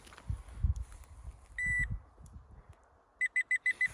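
A Nokta Legend metal detector gives one sustained electronic tone, a high signal reading 45, then four quick high beeps in a row against quiet, faint handling noises.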